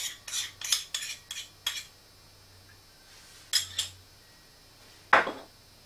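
A utensil scrapes and clinks against a bowl while mayonnaise is mixed into an egg and dill sandwich filling, in a series of close, quick taps and stirs with pauses between.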